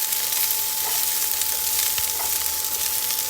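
Browned Brussels sprouts sizzle softly in a pan while being stirred, a steady close hiss with a couple of faint scraping touches.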